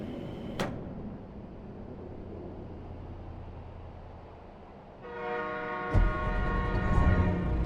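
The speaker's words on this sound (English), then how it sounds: "Oh, they're blowing their horn, I'll blow mine." In American Truck Simulator, a distant train rumbles past with a sharp clatter, then a train horn sounds, a steady, tonal blast that holds for a few seconds.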